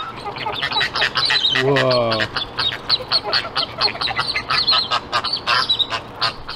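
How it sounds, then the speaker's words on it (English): Ducks quack and squawk at Woodland Park Zoo in Seattle, with one loud, close, nasal run of calls standing out amid chattering visitors who talk throughout. "American duck? American duck?"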